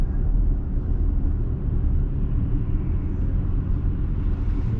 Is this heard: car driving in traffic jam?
yes